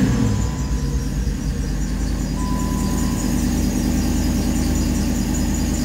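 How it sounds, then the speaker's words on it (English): An LS V8 swapped into a lifted Jeep fires up for the first time through a custom-built exhaust, settling into a loud, deep, steady rumbling idle with a faint whine on top and no talking. "here is the first start with the exhaust that I whipped up"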